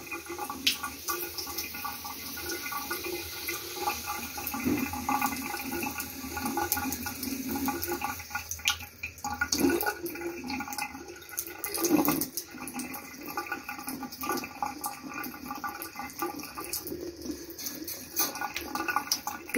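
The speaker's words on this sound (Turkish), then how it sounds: "Bir de yüzünü mü yıkıyorsun?" Water running from a bathroom tap while a face is washed, a continuous trickling and splashing flow with small surges, heard at moderate distance and fairly quiet, with no talk.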